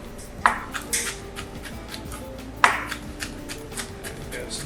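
Knife cuts chilli into thin slices on a board, giving a few sharp chopping taps over quiet background, with no talk.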